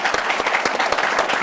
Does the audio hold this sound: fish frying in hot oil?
no